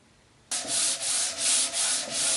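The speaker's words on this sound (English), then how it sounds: "after a final sanding" Sanding on a handmade wooden whiskey box starts abruptly after a quiet moment, then runs as close, loud, rhythmic rasping strokes, about five back-and-forth passes.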